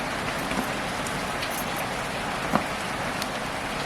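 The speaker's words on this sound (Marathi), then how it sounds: "पाऊस लागतोय" Heavy monsoon rain pours steadily near an outdoor wood-fired stove where onion bhaji is being cooked, a dense continuous hiss with one brief louder knock partway through and no voices.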